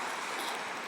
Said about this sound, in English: It's pouring rain today